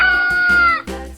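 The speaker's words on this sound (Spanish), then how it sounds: "Este es un lindo gatito." A cat meows in a children's animal-sounds game: one long, loud, close meow followed by a shorter second one.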